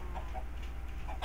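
A Minecraft chicken clucks in short, soft bursts over a low steady background hum, two quick clucks early and another near the end.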